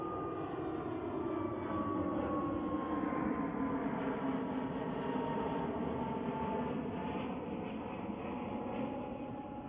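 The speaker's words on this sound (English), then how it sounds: "And KLM Airbus A321neo from runway 24." A KLM Airbus A321neo airliner on runway 24 at Amsterdam Schiphol gives a steady, loud jet engine roar with a rising whine, continuous and unbroken throughout.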